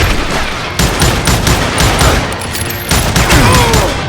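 Dense, rapid gunfire from the Western shooter video game Call of Juarez Gunslinger: overlapping shots and bursts crowd the whole stretch, loud and close, with booming low end and no talking.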